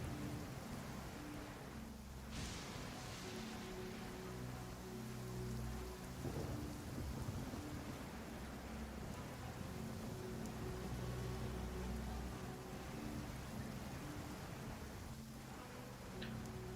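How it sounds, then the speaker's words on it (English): Steady heavy rain with rumbling thunder fills a stormy scene in the video game Genshin Impact, a continuous dense downpour with low rolling booms, with no talk over it. "It's raining again? Oh, this isn't good."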